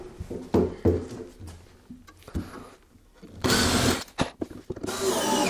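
A cordless power drill drives the last screw into a bench made from a wooden wine barrel, with two loud whirring bursts near the end after softer knocks and handling sounds.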